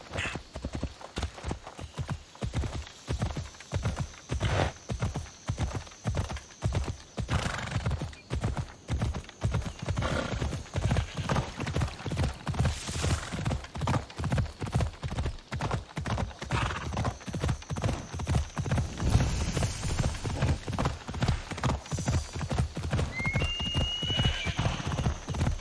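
A horse gallops in the video game Assassin's Creed Odyssey, with loud, rapid, evenly spaced hoofbeats running continuously, a whinny partway through and faint game chimes near the end.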